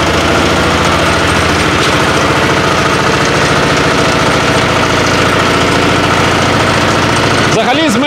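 A hybrid walk-behind tractor engine runs loud and close, a rough throbbing chug that holds steady while the machine turns. Someone speaks over it briefly near the end.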